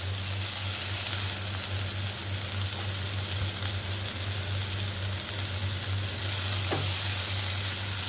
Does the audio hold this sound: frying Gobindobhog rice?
yes